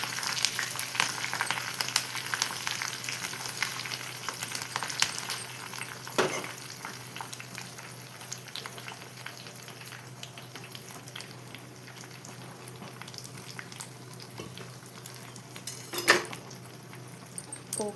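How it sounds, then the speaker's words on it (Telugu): Curry leaves crackle and sizzle in hot oil for a tempering for tomato dal, a steady close frying hiss with occasional sharper pops and a clink of stirring, no voices. "కొద్దిగా కరివేపాకు, మంచిగా వేయించుకోవాలండి."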